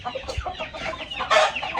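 A hen clucks repeatedly in short, close, irregular bursts at a family home in Pakistan, ending with a louder, squawkier cluck.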